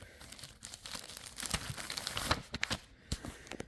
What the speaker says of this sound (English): Trying to figure out how to open this up with one hand.